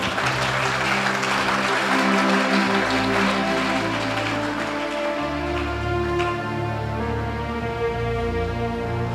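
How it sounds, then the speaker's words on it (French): A church congregation at a healing and deliverance service claps and cheers loudly, a dense continuous wash of applause running over sustained music throughout. "Acclame très fort, très fort."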